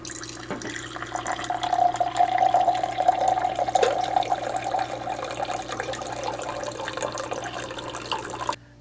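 Filtered water pours from a FrizzLife MD40 countertop filtration pitcher into a glass: a steady, close stream runs for about eight seconds, then stops abruptly, with no voices.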